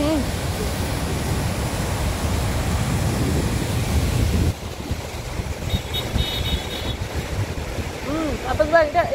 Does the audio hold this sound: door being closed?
no